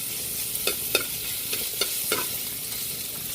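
Ginger and garlic sautéed in a pan for ginataang isda: a steady faint sizzle with several quick spatula scrapes and clicks in the first two seconds, no voices.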